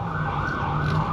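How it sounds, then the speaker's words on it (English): A loud wailing siren, close by, its pitch sweeping steadily over a low traffic rumble. "It's usually a lot of sirens in the background"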